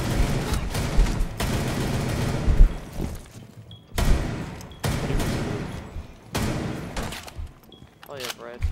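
Rainbow Six Siege gunfire, loud bursts of automatic fire in several stretches with booming impacts, while players talk over the shooting.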